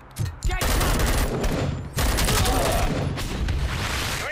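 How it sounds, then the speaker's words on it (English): Rapid bursts of gunfire from Robocop: Rogue City, a loud near fusillade of automatic shots that pauses briefly and then resumes, with a voice heard faintly under the shooting. "Who the fuck's shooting at me?"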